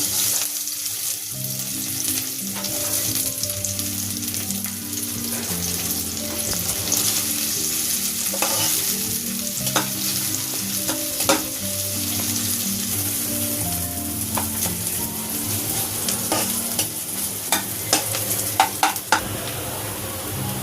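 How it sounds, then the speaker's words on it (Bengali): Chopped onions sizzle steadily in hot oil in a wok for a long stretch, with occasional scrapes and clinks of stirring. "কড়াইয়ে কিছুটা তেল দিয়ে দিয়েছি, এখন দিয়ে দিব পেঁয়াজ কুচি"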